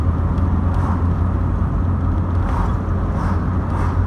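A 1986 Mk2 Vauxhall Cavalier drives along a road, its engine a steady low drone under continuous tyre and road roar from inside the cabin, even and unbroken throughout.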